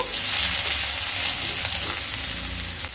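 Whole cumin seeds and sliced garlic sizzle steadily in hot oil, a dense continuous frying hiss with faint stirring clicks, close and fairly loud, no talk.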